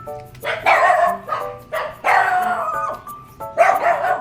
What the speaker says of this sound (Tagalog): Ayan ang aso.